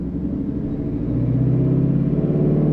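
Twin turbo Ford Mustang engine being given too much gas by a learner driving manual, a steady loud rumble that rises in intensity partway through, with no voices.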